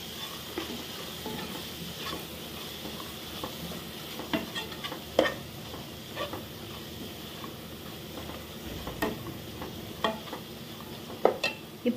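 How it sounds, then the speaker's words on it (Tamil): Stirring masala with chilli powder in a sizzling pan for crab curry: a steady frying hiss with irregular scraping clicks and taps from a utensil, close up, no voices. "நல்லா கிளறி விடுங்க"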